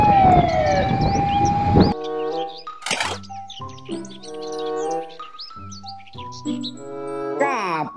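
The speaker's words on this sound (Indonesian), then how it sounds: "Mobil truk pemadam kebakaran." Toy fire truck sounding a warbling electronic siren with rising and falling tones, preceded by a noisy opening burst and mixed with chirpy toy sound effects, close and fairly loud.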